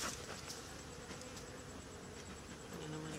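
Honey bees buzz faintly around an opened hive during a honey harvest, a soft, steady hum with a few brief closer passes.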